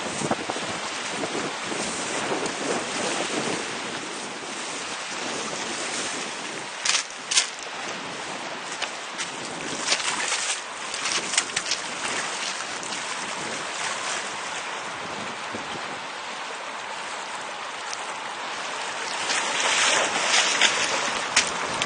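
Strong 23 mph wind gusting across Bray Lake around a radio-controlled model sailboat, a steady broadband rush with lapping water and louder gusts near the end, no voices.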